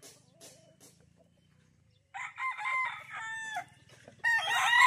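Roosters crow repeatedly at a gamefowl farm, several loud calls overlapping in the second half with softer clucking and faint farm noise before them.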